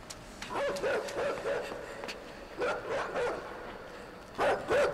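Attack dog in a spooky video game barking in short bursts, clustered yaps and growly barks repeating in three groups, fairly close and standing out over a quiet background.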